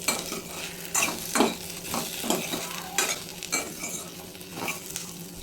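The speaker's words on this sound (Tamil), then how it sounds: "5 to 7 minutes வந்து மீடியம் ஃப்ளேமில் வந்து ரோஸ்ட் பண்ணிக்கோங்க." Okra roasts in a pan over a medium flame, a busy sizzle broken by rhythmic scraping and stirring strokes of a spoon, close and fairly loud, no voices.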